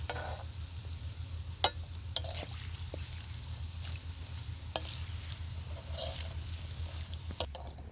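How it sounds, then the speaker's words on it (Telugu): Dried fish frying in oil, village style: a faint, steady sizzle over a low hum, broken by a few sharp utensil clicks. "ఎండు చేపలు అయితే ఒక 2 minutes వేయించుకోవాలండి బాగా ఆయిల్లో"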